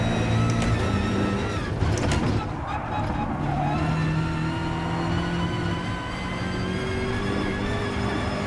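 Heavy, oversized car driven in the racing game Gran Turismo Sport, its engine droning steadily with shifting tones throughout, a continuous loud mechanical hum without pause.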